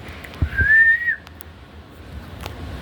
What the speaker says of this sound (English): Here's for the whistle.